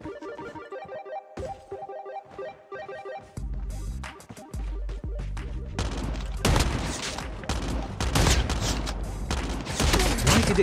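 Shotgun blasts and other gunfire in Call of Duty Mobile ring out amid rapid bursts and booms. Game music comes first, then a loud cluttered stretch of repeated shots over the final seconds.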